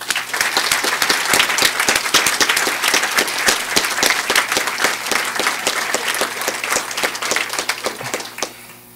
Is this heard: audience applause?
yes